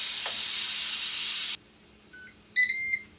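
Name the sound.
steam releasing from Ninja Foodi pressure cooker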